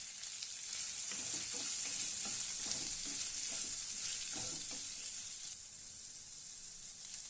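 Amla (Indian gooseberries) sizzle steadily in a hot pan with turmeric and salt, a constant bright hiss with occasional soft scraping and stirring knocks, fairly close and without talk.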